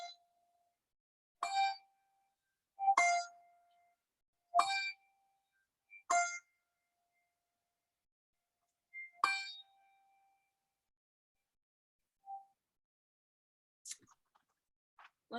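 Handbells from a handbell choir ring in separate clear strikes, about six over fifteen seconds at an uneven spacing, each with a bright attack and a short decay, plus a few faint later taps and no talking.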